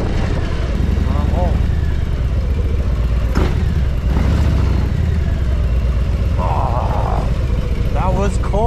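Motorcycle engine droning steadily throughout a cold ride, a constant loud mid-pitched rumble with wind noise, under occasional voice and short chirping sounds near the end.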